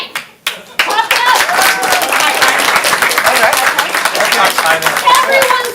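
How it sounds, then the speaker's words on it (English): Audience applause at a comedy improv show begins after a couple of brief claps and swells into steady, close, lively clapping with voices mixed in. "put those hands together and you got tie pineapples"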